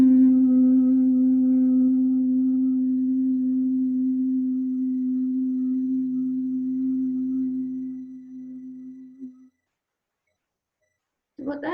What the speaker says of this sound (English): when you exhale, you make a humming noise.